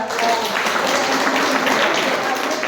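Classroom applause as a group of students claps together for a classmate, a dense steady patter of many hands throughout, fairly loud and close.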